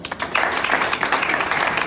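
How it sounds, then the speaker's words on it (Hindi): Loud applause breaks out from a seated business seminar audience, a dense wash of clapping that swells after a brief sparse start and holds steady to the end. "इसके लिए जोरदार तालियां"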